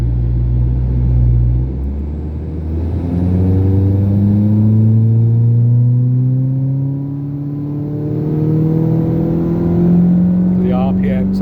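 A Ford Fiesta ST180 engine runs without water methanol, its pitch climbing steadily as the revs rise over several seconds, then dropping and climbing again, loud and close with a strong low rumble.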